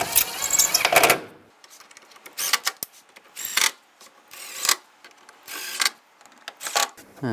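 Screws being driven and tightened into the front bumper of a 2008-2017 Buick Enclave, heard as a series of short, close, irregular mechanical bursts of whirring and rubbing separated by brief quiet gaps.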